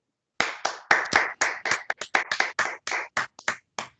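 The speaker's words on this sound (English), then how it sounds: "let's have one final round of applause for our speaker." A small colloquium audience claps after a talk on uncertainty quantification in fluid models: close, distinct individual claps in a quick, slightly uneven rhythm for about three and a half seconds, with no talking.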